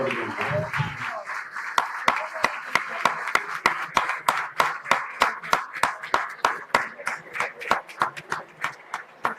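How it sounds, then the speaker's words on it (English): Audience at a community ophthalmology conference inauguration gives a round of applause for board members, beginning with a brief voice, then steady rhythmic clapping in unison, loud sharp claps repeating evenly throughout. "I will ask all of you to give a big round of applause for them."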